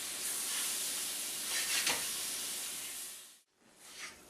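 Banana pieces sizzle in a hot pan while being gently stirred, a steady close frying hiss with brief scraping swells, then a short pause before the sizzle picks up again.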